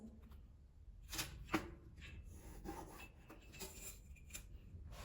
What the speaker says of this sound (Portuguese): Aqui eu risco com lápis mesmo